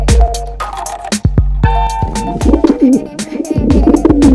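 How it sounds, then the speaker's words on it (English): A pigeon coos in a run of soft, low, throaty calls, layered under a loud musical backing of plucked notes and steady tones, with no talking. "A pigeon makes a cuckoo sound."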